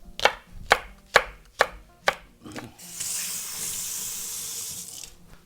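Knife slicing red chili peppers thinly on a board while making yeolmu water kimchi: five crisp, evenly spaced cuts up close, then a steady gush of running tap water.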